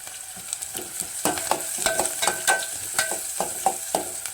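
Ginger garlic paste fries in a pan with a constant crackling sizzle, punctuated by rhythmic spatula scrapes and taps, near and moderately loud, no talking.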